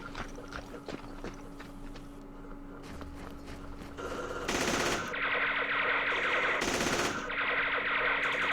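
Gunfire in the Vietnam war game Campaign Series Vietnam, Dien Bien Phu scenario, with scattered shots and rattling bursts that grow into loud, dense volleys over the second half.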